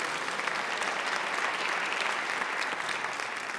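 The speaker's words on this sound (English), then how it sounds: "You can applaud that." A dense, steady wash of audience applause fills a stadium gathering at a high school marching band event, many hands clapping continuously at moderate distance with no voices above it.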